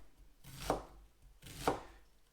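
Two crisp knife strokes chopping onions into medium chunks on a cutting board, evenly spaced about a second apart, close and clear in an otherwise quiet kitchen.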